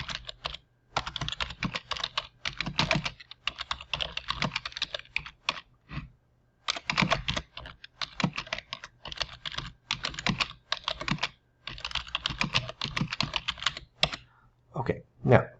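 Someone types on a computer keyboard in bursts of rapid, close clicking keystrokes, pausing briefly between runs, with no other sounds intruding.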